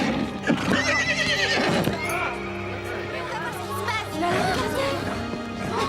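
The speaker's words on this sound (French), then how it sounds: "Ce n'est pas le cheval de Véronica?" A horse, Véronica's mount Cobalt, whinnies loudly several times while its hooves clip-clop alongside, with a faint murmur of voices in the background.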